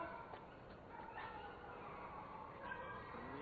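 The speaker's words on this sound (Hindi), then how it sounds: "ये जानवर भौंक रहे हैं" Dogs barking and yipping at night, faint and distant under a steady background hiss, with a few short whimpers and yaps scattered across the stretch.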